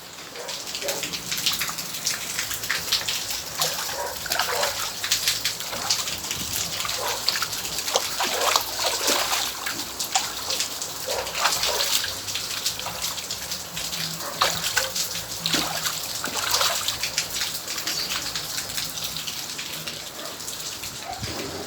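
Floodwater rushes in front of a house after heavy rain, a dense, steady hiss of flowing and splashing water with scattered drips and spatters, continuous and fairly close throughout.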